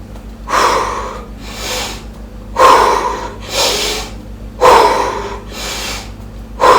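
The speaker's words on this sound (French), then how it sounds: "prendre des grandes inspirations Et vraiment, des grandes expirations aussi" Deep conscious breathing, big slow inhales and long exhales in a steady rhythm, about six breaths heard close to the microphone with quiet pauses between them.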